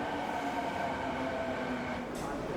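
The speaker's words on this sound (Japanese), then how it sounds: "まずは地下鉄で博多駅まで向かいます。" A subway train bound for Hakata Station in Fukuoka rumbles steadily from inside the car, with a low drone and faint tonal whine from the motors. Near the end comes a short hiss.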